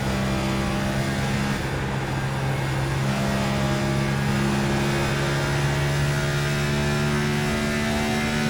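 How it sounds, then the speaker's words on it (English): A race car engine in a sim racing game's ENSCAR event, a steady close droning whine heard from onboard as it changes down gears through corners, with small shifts in pitch and no voices. "Changing down gears through the corners."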